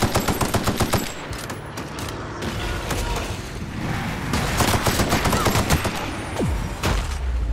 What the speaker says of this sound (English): Maybe I should get out my rifle.